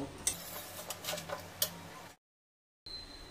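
Spice paste stir-fried in a pan for a vegetarian potato and pointed gourd dish with Gobindobhog rice, giving quiet sizzling and rhythmic spoon taps and scrapes, then a brief silence before faint sizzling resumes.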